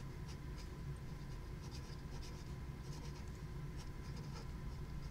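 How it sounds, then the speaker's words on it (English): Soft continuous scratching of a pen or marker writing on a homemade scratch-off card, faint and close, with a low background hum. "I'm going to write happy birthday"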